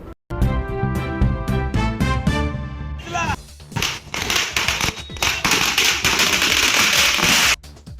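A tonal news-bulletin jingle opens the clip, followed by a long string of loud, rapid firecracker bangs and crackles going off back to back at a street celebration in Dharmabad.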